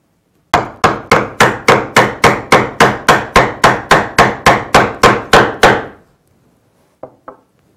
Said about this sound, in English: I can use my mallet and the chisel to chop down into the mortise